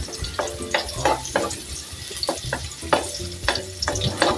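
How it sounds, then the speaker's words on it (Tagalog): Garlic and onion fry in a pan with a steady background sizzle, broken by repeated scraping stirs at an irregular rhythm, close and fairly loud, with no talking. "at yung ating bawang at sibuyas guys ay ipapabrown po muna natin"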